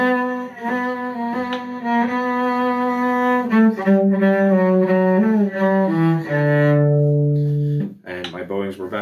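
Solo cello plays the second phrase of the Suzuki Minuet in G, from the pickup to the repeat, a steady run of bowed notes held close and clear for about eight seconds before a voice briefly starts talking.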